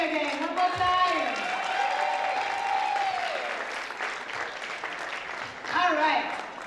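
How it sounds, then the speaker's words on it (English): An awards-show audience claps and cheers in sustained applause while a voice speaks over it, with a fresh swell of clapping near the end. "A hand of applause for our AG again."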